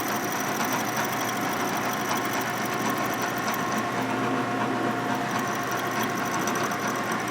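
Machining tool cutting into a Harley M8 145ci big-bore motorcycle engine case for 4.5-inch race cylinders, a steady close mechanical whir and rattle with no clear single strike.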